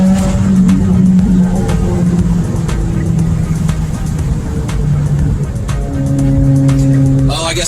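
Tuned 2017 Subaru WRX with a turbo and bypass valve, engine droning and shifting pitch from inside the car as it accelerates, with occupants talking over the engine noise.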